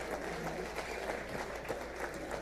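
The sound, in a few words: applause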